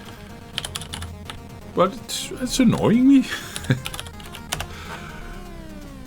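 Keys clatter on a MEGA65 computer keyboard in scattered bursts, fairly close, while someone talks over much of it.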